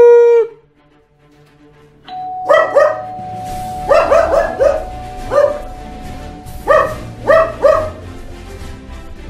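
A dog barks in repeated bursts of several sharp woofs, with brief pauses between groups, loud and close, over a steady faint tone in the background.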